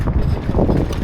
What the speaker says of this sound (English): this is windy because of the Storm Davis they're calling here in Sweden